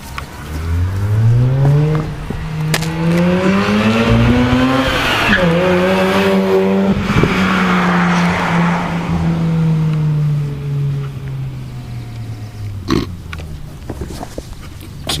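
Two Mazda RX-8 rotary cars driving through a neighborhood, their engines revving loudly with rising and falling pitch sweeps, close and continuous throughout, with a sharp tire squeal near the end.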